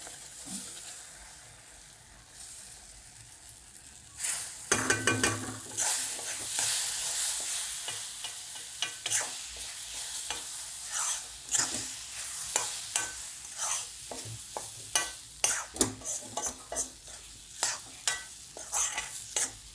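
A spoon scrapes and stirs moong dal roasting with golden-browned besan in a pan, soft sizzling under repeated, uneven scraping strokes.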